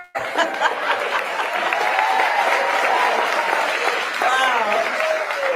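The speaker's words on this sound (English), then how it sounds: "Can you believe that's an applause line?" A crowd at a political rally in Pennsylvania breaks into steady applause and cheering, loud and continuous throughout, with a voice faintly audible over the clapping.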